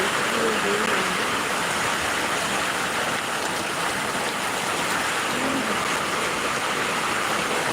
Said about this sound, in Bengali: এখন বৃষ্টি হচ্ছে বাহির এখন অনেক বৃষ্টি